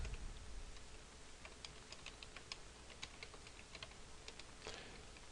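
Steady typing on a computer keyboard while entering spreadsheet data in Excel 2010, rapid light keystrokes clattering close to the microphone over a faint background hiss, with no talking.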